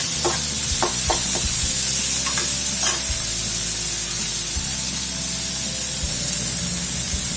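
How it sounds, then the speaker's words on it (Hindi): A chopped tomato frying in a pan for a stuffed karela dish gives a steady, close, loud sizzle, with scraping stir strokes and light taps from the utensil against the pan throughout. "एक टमाटर है, इसको भी अच्छे से फ्राई करेंगे"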